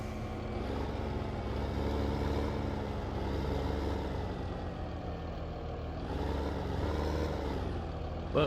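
Truck hauling a grass trailer back from a biogas plant in a farming video game, a steady low engine drone rolling on continuously with a slight swell partway through.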